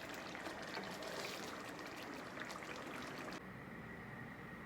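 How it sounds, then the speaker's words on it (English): Thick seafood sauce poured over a seafood boil, a continuous wet trickling and splattering pour close by that thins out and quiets near the end. "I'm gonna just go on ahead and pour this all on top of my seafood"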